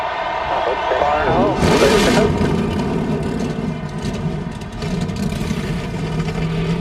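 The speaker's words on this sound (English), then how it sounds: "drivers, start your engines!" Engines of NASCAR stock cars start up for the 2011 Quaker State 400 Sprint Cup race in Kentucky, a steady loud droning roar with a swell near the start, under a voice talking.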